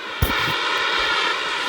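An aircraft engine drones in the Call of Duty Mobile video game, a steady whining roar of a jet or helicopter, loud and close, opening with a brief thump.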